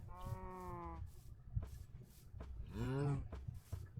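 Cows in the Minecraft video game give two drawn-out, nasal moos, one at the start and another near the end, close and clear over a low background of game noise and soft talk.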